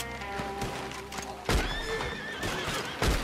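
A horse in Red Dead Online whinnies and neighs, mixed with clip-clop hoof sounds and game effects, at a moderate level with no speech over it.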